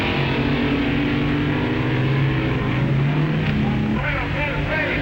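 Drag racing cars of 1958, among them the Dragmaster, launch off the line with a loud, sustained engine roar whose pitch climbs and shifts near the end as they accelerate away.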